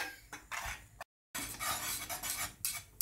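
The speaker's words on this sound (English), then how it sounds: "and you just keep stirring." A spoon works through cornmeal porridge in a pot, giving repeated soft scraping and clinking strokes, close and moderately loud, with one brief silent gap midway.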